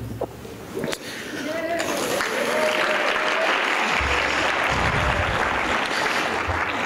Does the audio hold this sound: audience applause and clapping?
yes